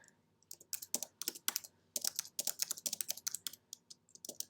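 Quick bursts of computer keyboard typing, crisp close clicks in uneven rapid runs with short pauses between words, loud and alone in a quiet room.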